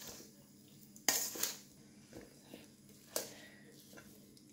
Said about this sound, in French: Il faut que ça se mélange très bien.